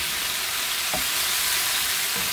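Vegetables and sausage sizzle and fry in a wok while being stirred, giving a steady loud hiss with a couple of brief scraping knocks of the utensil, no voices.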